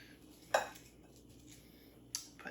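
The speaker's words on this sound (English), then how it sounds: "I'm going to add our Brussels sprouts" Roasted Brussels sprouts dropped into a salad dish, giving a couple of light clinks and clatters of dish and utensil, brief and close in an otherwise quiet kitchen.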